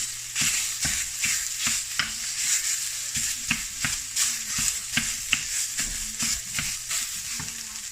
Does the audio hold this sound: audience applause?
no